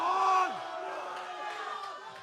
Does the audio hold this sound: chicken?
no